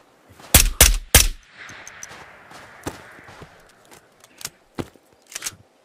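Gunfire in the video game Ghosts of Tabor: three loud close shots in quick succession open the passage, then scattered lighter shots and thuds follow over a low background.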